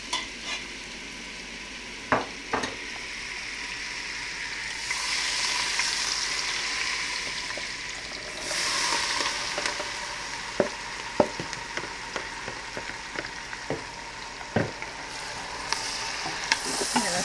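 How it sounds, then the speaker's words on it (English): Butter, four tablespoons, melts into hot bacon grease in a pan for a stew, giving a steady broad sizzle with scattered spoon clicks and stirring scrapes throughout, no voices. "We're going to add in 4 tablespoons of butter, half a stick, into the bacon grease."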